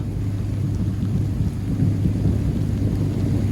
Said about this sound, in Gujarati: વાદળા એટલા ગાજી ને કે કાનના પડદા ફાટી જાય